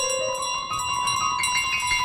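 A bell rings in Untitled Goose Game, a bright sustained ringing tone with repeated clangs across the clip, loud and clear with no talk.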